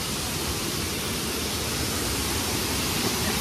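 Ambutheertha waterfall pours in a dense, unbroken rush of water, a steady broadband roar heard close at hand with no other sounds.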